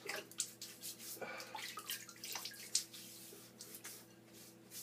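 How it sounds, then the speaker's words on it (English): A man rinses his face with hot water from a running tap before a double-edge shave, a close, quiet mix of steady running water with splashes and drips and no talk. "I'm going to give it one rinse with hot water."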